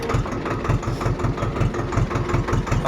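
A small tractor engine runs steadily nearby on a farm, a loud low chugging pulse with an even, rapid beat and a throbbing mechanical drone, with no voices.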